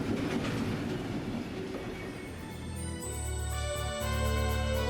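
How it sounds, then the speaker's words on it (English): A Conrail double-stack freight train, TV 201 running from Kearney, New Jersey to Chicago on a yellow signal, rolls past with a steady heavy rumble, rhythmic wheel clatter and thin metallic squealing tones. "The double-stack train is TV 201 from Kearney, New Jersey to Chicago"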